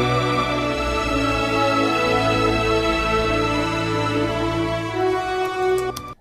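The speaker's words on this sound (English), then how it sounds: "we've got some the counterpoints on the strings doing their things with the brass" A dense orchestral passage with sustained strings and brass lines weaving against each other, steady and full throughout before fading at the end.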